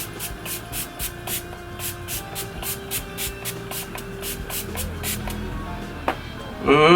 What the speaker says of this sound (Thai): ใช้น้ำแร่ ฉีดให้เปียกเลยแล้วมาดูกันว่ามันกันน้ำไหม